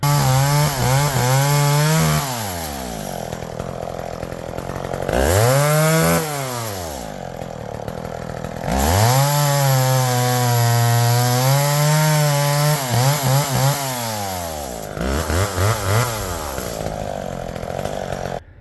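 Vintage McCulloch 10-10 chainsaw at a firewood pile, engine whining up under load and easing back repeatedly as it cuts, loud and close with brief idling dips between cuts.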